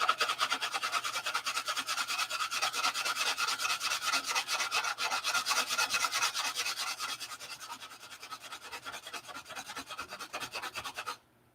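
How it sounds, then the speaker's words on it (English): Open-hand sanding of wood with sandpaper held in the bare hand, a steady rapid back-and-forth rasping scrub that runs close and continuous, easing slightly softer toward the end before stopping abruptly. "Open hand sanding like I'm doing is not something that I recommend for a beginner to do."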